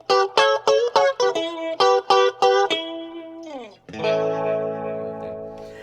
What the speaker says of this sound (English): especially if you put it through a rotating speaker